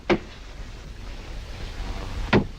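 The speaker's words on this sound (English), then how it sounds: "just the steam in the water pipes" Two sharp knocks ring out about two seconds apart over a constant low rumbling hiss, steam knocking in water pipes.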